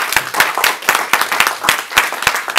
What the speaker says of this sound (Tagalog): Ano ka sa palakpak po para sa Diyos?